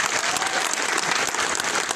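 An audience in San Andrés Huaxpaltepec, Oaxaca, applauds at a swearing-in ceremony, a short, steady burst of many hands clapping together.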